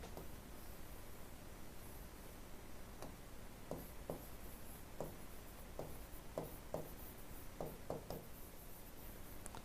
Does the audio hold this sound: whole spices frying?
no